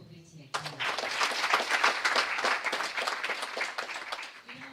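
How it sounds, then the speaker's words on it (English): An audience at an International Women's Day celebration claps and applauds in a dense, sustained burst of clapping that starts suddenly and slowly tapers off, with a voice briefly heard before it begins. "I think you should clap for Betty again"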